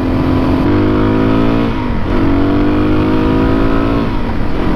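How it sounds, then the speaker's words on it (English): A dirt bike engine, KLX300 or DRZ400S on a cold canyon trail, bogs and hesitates under hard acceleration, its loud droning pitch rising, sagging around the two-second mark, then climbing again, close and continuous. "Little bit of weird bogging or hesitation under hard acceleration"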